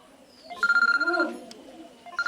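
An electronic phone ringtone sounds close by as a rapid pulsing tone for about a second, then fades, with a brief chirp returning at the end.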